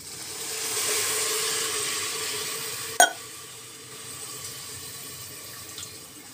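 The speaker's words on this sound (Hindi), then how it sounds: "अब हम ऐड करेंगे पानी" Water poured into a pot of lightly cooked rice and vegetables for pulao makes a steady, soft pouring wash for about three seconds, followed by a sharp clink and quieter trickling.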